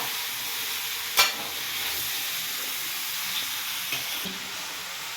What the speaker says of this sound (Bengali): এখন আমি সর্ষের তেল দিয়ে দিয়েছি তেজপাতা শুকনো লঙ্কা আর পাঁচফোড়ন দিয়ে আমি এটাকে আমি ভেজে নিচ্ছি